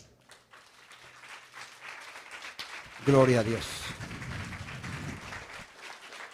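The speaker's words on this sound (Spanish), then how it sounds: "Dale un aplauso al Señor." A church congregation applauds during a Sunday service. Clapping builds gradually, swells loudly around the middle and then eases off, while a voice speaks over it.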